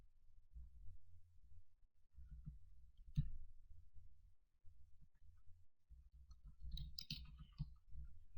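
Faint clicking of keys on a computer keyboard as CSS comments are typed, with short irregular bursts of keystrokes separated by brief pauses in a quiet room.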